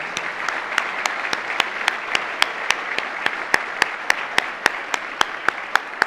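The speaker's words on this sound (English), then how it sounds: "How about a round of applause" A conference audience applauds at a World Trade Center St. Louis Growing Global event, a steady, moderately loud wash of clapping with a few sharp individual claps standing out at a regular pace.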